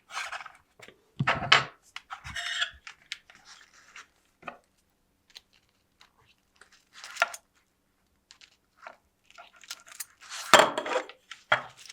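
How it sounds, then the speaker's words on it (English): Small plastic parts clack and rattle as they are pushed into the pouches of a 1/6 scale Chris Kyle action figure vest, sharp intermittent clicks and rustles close up with quiet gaps between. "Now I'm just going to fill some of the pouches."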